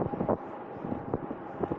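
Headwind gusts buffet the microphone of a rider on a gravel bike on a road near Madurai, a low rumbling whoosh that rises and falls in short bursts.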